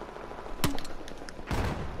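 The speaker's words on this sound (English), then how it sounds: "God, I love this grenade launcher." A grenade launcher fires in a shooter video game, with two sharp blasts about a second apart, the second a broader, heavier boom, each standing out against a faint background.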